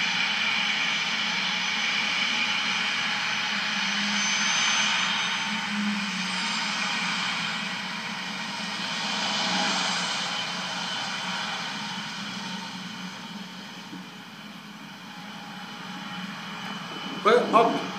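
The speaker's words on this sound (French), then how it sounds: "Hop, décollage." A private jet takes off with a steady, broad engine roar that swells and eases over many seconds, heard from a distance, with a brief sharp noise near the end.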